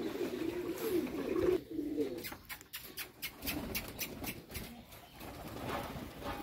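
Soft, low pigeon coos repeat at the start, then fade beneath rustling and light outdoor clatter; no talking.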